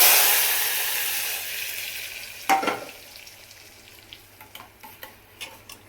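A tempering of spices for dal sizzles loudly in a hot frying pan at a home stove, the hiss fading over a few seconds before a burst of stirring and several light metallic clinks.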